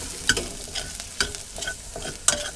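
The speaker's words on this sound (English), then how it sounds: "Let's give that a stir" Curry paste frying in a pan, slightly catching on the bottom, is stirred with several scraping strokes over a soft sizzle, each stroke giving a sharp clatter, close and with no voices.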